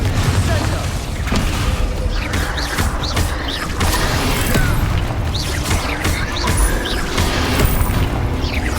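Confringo blasting curse explosions go off in Hogwarts Legacy amid a dense, continuous battle din of booms, crashes and magical impacts, loud throughout, with a voice calling out spells over it.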